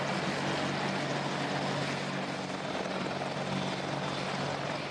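A steady, dense Apache military attack helicopter rotor roar with broadband whooshing and no gaps, fairly loud and continuous throughout.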